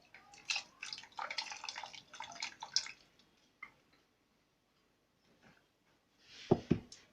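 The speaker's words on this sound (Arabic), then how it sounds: "هبتدي بقى اضيف لها النشا اللي انا مدوباها في المية" Starch dissolved in water poured into a cheese mixture, giving a run of soft close splashing and dripping trickles, a brief pause, then a final louder pour.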